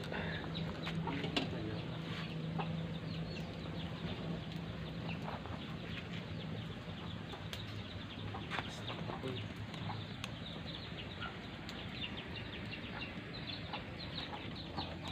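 Chickens cluck and squawk across a busy farmyard, steady ambient noise with scattered calls near and far.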